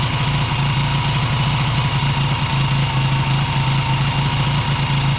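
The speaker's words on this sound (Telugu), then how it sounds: "ఈ ఇంజెక్షన్ అనేది ఇంటేక్లోకి వెళ్ళే కొద్దీ ఇంజిన్ యొక్క నాయిస్ కూడా చాలా క్లియర్గా మారుతుంది" Engine idling with water injected into its intake, a steady close mechanical hum with a fast even pulsing throb, alone and unchanging throughout.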